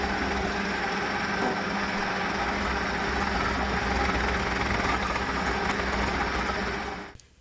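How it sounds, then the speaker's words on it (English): A food processor runs steadily, chopping peppers into rings. Its motor makes a loud, even drone with a rattling buzz for about seven seconds, then cuts off at the end. "I'm going to take this and get this chopped up inside my food processor"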